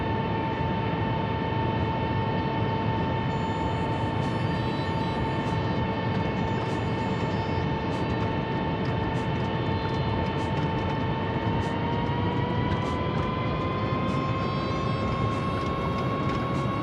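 Airbus A320neo jet engines during the takeoff roll, a loud steady roar with sustained high whines that climb slightly in pitch toward the end, without pause.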